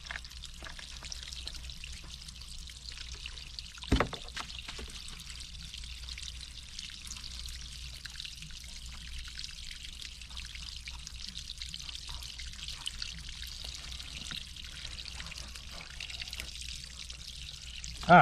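Water drains steadily from an electric water heater, a soft continuous trickling pour with a faint hiss that stays even throughout, broken once by a brief knock.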